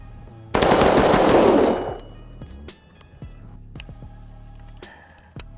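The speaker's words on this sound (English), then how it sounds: "we'll shoot the AR with the APT inside of it and we'll see what the difference is" An AR rifle fitted with a RISE RA-535 APT drop-in trigger fires one rapid, loud string of shots lasting about a second and a half, followed by faint clinks of brass and metal settling.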